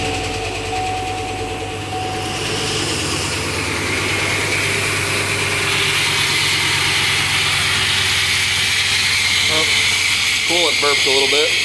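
A Pontiac Grand Prix GXP with an LS4 engine cranks and catches, then settles into a steady idle hum; a few short voice bursts come near the end.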